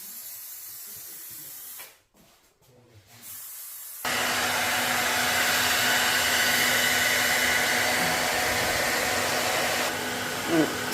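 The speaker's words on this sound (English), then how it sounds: "So we're putting the hood dryer on just because the cap is a lot thicker." A hood hair dryer blows over a thick wig cap, coming on after a brief near-silence and then holding a loud, steady airy whoosh with a faint whine to the end.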